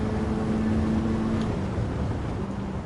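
A racing car engine in Gran Turismo 7 holds a steady, loud drone with a tonal hum as it slipstreams and overtakes on the final lap, continuous throughout and free of talk.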